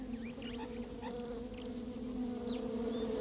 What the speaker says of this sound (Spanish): Un insecto asombroso llamado Diadasia rinconis